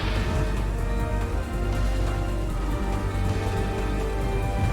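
Steady rain pours down in Resident Evil 4, a dense, even wash of hiss and patter that holds at one level throughout, close and loud with no voices over it.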